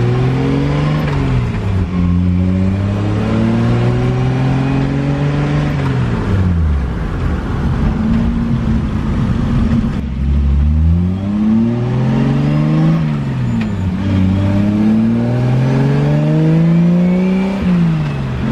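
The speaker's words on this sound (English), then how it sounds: "You definitely get all the engine noise in here." A 2JZ-swapped Honda Civic engine heard from inside the car pulls through several rising gear sweeps, each climb dropping at a shift, loud and droning for the whole stretch with no voices.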